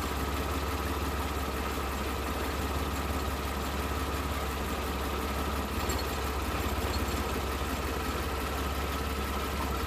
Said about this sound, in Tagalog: Tapos yung tunog ng ating makina, medyo pumipino.